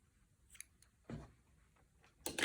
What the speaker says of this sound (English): basically I'm gonna be cutting right at a 1/4 inch